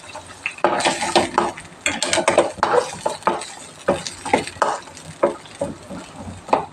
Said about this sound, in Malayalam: ഒരു രണ്ടല്ലി വെള്ളുള്ളിയും കൂടെ ഇട്ട് കൊടുക്കുന്നുണ്ട് ഇത് നമുക്ക് നന്നായിട്ടൊന്ന് വഴറ്റാം